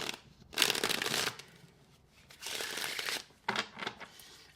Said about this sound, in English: we're gonna go ahead and start shuffling